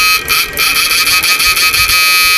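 Cooling blower fitted in a Fuliwang 8-FET FLW-88000W amplifier under repair, running as a steady close hiss with a high tonal whine, pulsing slightly in level.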